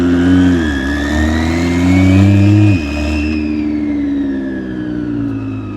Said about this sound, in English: It doesn't sound like a Viper to me, we'll put it that way.